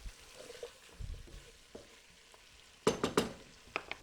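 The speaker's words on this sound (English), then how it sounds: "all I'm trying to do is put a little color on these vegetables." Vegetables for a Guinness stew stir and fry in a pot, a low background sizzle broken by a few loud clattering stirs near the end, with no talking.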